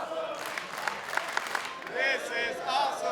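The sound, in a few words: arena crowd cheering and applauding at wrestling event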